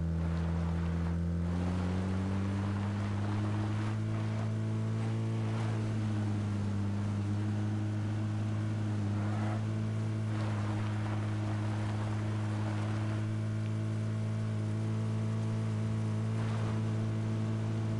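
A vehicle engine in PUBG drones steadily and loudly, its pitch rising and holding as it accelerates, with a low sustained hum and no talk.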